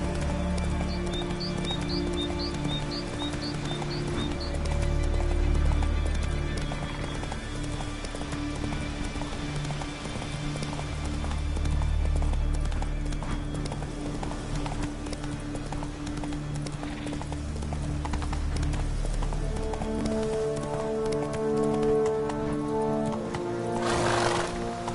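Hooves of the horse Roach clip-clopping at a run in The Witcher 3, rhythmic and steady with a whinny near the end, over ambient game music and effects.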